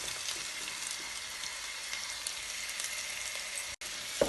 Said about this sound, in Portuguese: Vamos deixar dar uma murchada aqui na nossa cebola.